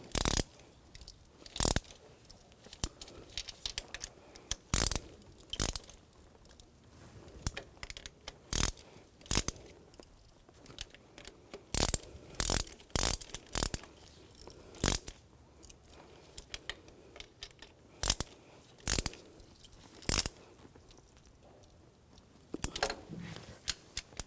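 A hand ratchet snugs down exhaust manifold nuts on a 2004-2009 Audi A4 Quattro 2.0L turbo engine, giving a series of sharp, close clicks in short irregular bursts with quiet gaps between.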